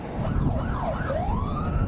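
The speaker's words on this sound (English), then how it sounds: "Sirens on." A police car siren wails in rising and falling sweeps during a pursuit, over a steady low road rumble, fairly distant and continuous.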